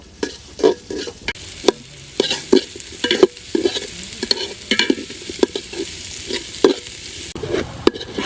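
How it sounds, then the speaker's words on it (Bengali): Chopped garlic and onion fry in hot oil for khichuri, a close crackling sizzle broken by frequent sharp scrapes and clinks of a spoon stirring the pan, with no talking. "তেল গরম হয়ে গেছে, রসুন কুচি দিয়ে দিচ্ছি। পেঁয়াজ দিয়ে দিচ্ছি। রসুন আর পেঁয়াজটা ভালো করে ভেজে নেব।"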